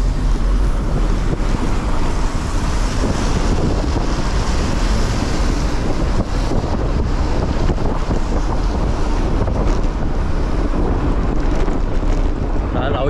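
Strong wind roars and buffets the microphone while cycling in a typhoon signal no. 1 near a waterfront pier, a loud continuous rush with gusts and no talk.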